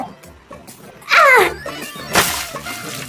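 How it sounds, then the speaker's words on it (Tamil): Water splashing during playful water balloon fun at home, with two loud splashes against a person, one near the middle and one later, amid laughter and background noise. "நீ என் மேலேயே தண்ணி அடிக்கிறியா?"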